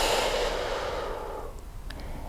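One long, deep exhale rushes out close to the ear, loud at first and then slowly fading to a soft hiss.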